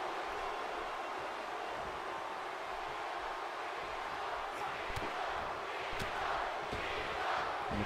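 Arena crowd in WWE 2K18 wrestling, a wide, steady roar of cheering fans that holds throughout with a faint surge toward the end, heard alone without commentary.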